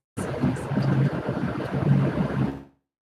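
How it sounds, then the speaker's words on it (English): Steady, rough wind buffeting the microphone outdoors, a continuous low roar with gusty fluctuations for a few seconds before cutting off. "it's windy out here"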